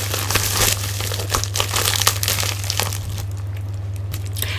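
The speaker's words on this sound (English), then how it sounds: "First, I need to render an aperture in the envelope." A paper envelope being torn open by hand, close crinkling and ripping sounds in quick bursts over a steady low electrical hum.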